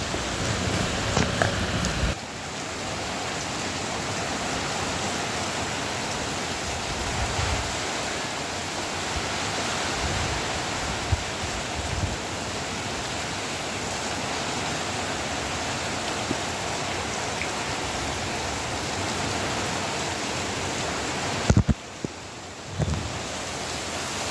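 Heavy typhoon rain and rushing floodwater make a loud, continuous broadband roar that fills the whole scene, with brief dips at the start and near the end.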